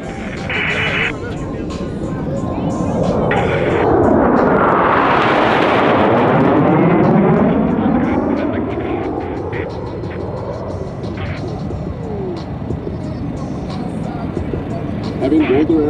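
Blue Angels fighter jets in the YSFlight flight simulator game make a loud jet roar that swells to a peak near mid-clip as aircraft approach and pass at about 400 miles per hour, then fades into a steady rumble.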